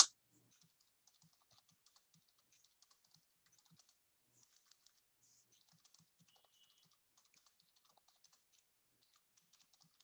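Typing on a computer keyboard while writing a file on a remote server, heard as faint, quick, irregular key clicks in short bursts throughout a quiet room.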